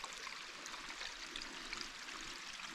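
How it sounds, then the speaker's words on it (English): Water runs steadily from a micro hydro penstock pipe, a continuous hissing, trickling flow heard up close with no break and no voices. "I hear water running."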